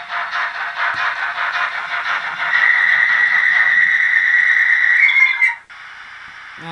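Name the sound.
brake squeal from Bachmann A1 model locomotive sound decoder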